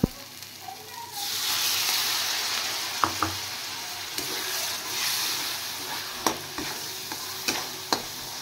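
Spice paste of salt, turmeric and dried chilli powder bursts into a loud sizzle in a hot pan as a little water goes in for a pabda fish curry, then settles into steady frying with a few sharp clinks of stirring.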